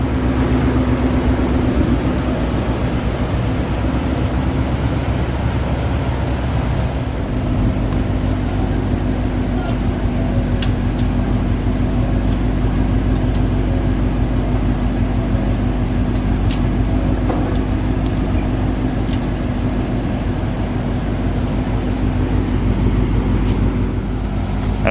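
Ford Mustang GT350 with JLT intake and ARH exhaust running on a dyno during a fourth-gear pull, a loud steady engine drone that holds throughout with little change in pitch.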